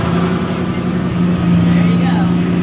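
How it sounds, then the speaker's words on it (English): A 1979 Ford Mustang Pace Car runs after being started, its engine holding a steady low droning rumble close by while people talk over it. "This supposed to sound like a Mustang?"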